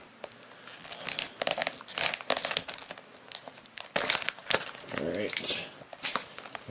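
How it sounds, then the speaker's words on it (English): Someone tears open a package with keys, making repeated loud crinkling, ripping and crumpling bursts of plastic and paper at close range, with a voice speaking briefly among them. "Need something to tear this open with."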